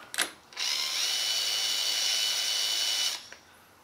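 A power drill drives screws into a milling machine part in one sustained, close, high-pitched run of about two and a half seconds, with brief clicks and a short blip on either side.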